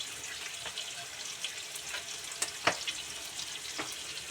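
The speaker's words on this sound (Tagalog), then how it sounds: "Kasi huhintayin ko pa maprito yan tuna." Steady frying sizzle of canned tuna in a pan over a gas stove, scattered pops and crackles, continuous throughout, no talking.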